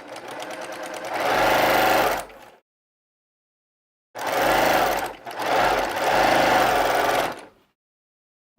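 A fast sewing machine stitches quilt pieces in three close, loud bursts of rapid mechanical whirring, one long run, a pause, then two runs nearly back to back, with silence between and no speech.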